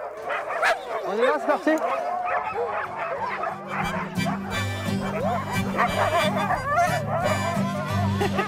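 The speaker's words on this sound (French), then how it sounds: "Une fois attelés, les 40 chiens étaient difficiles à retenir. Ça jappait dans tous les sens." Harnessed team of about forty sled dogs yapping, barking and whining excitedly all at once, a dense continuous chorus close by, with people talking over the din.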